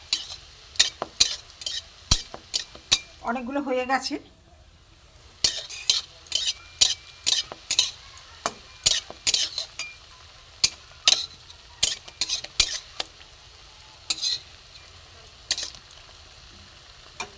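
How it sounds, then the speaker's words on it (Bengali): Pitha cakes fry in a little oil in a wide wok, with a quick run of sharp spatula scrapes and taps over a faint sizzle. One person speaks briefly between the strokes. "তবে হালকা তেলে, অল্প তেলে ভাজা।"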